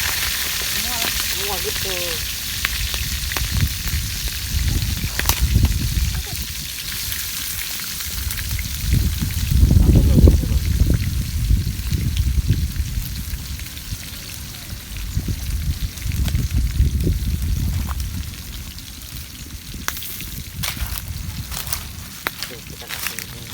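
Freshwater mussels (kijing) fry in hot oil, giving a steady sizzling crackle with louder bursts of spattering, while people talk over it now and then.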